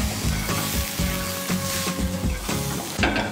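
Finely chopped coriander leaves sauté with prawns in a hot pan for a soup, a steady close sizzle broken by regular scraping stirs, with no voices over it.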